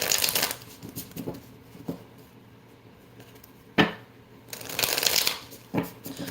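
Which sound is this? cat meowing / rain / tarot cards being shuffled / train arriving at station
tarot cards being shuffled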